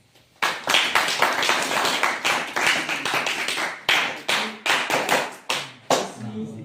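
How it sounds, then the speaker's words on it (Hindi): People clap in a small NCC office to welcome ITI trainees selected for the BSF, arriving in repeated strong bursts of rhythmic, close claps that swell and fade, with a voice speaking between them. "तो मैं चाहता हूं कि सभी तालियों से स्वागत करें।"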